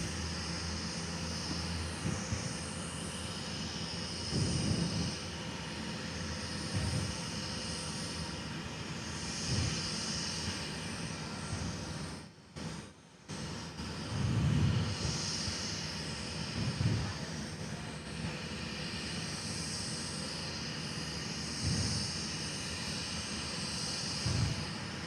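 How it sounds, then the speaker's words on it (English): A heavy Qantas jet airliner departing Perth Airport gives a long, steady engine roar with swelling surges, heard from a distance with a brief dropout partway through. "here's our heavy departure in Qantas heading off"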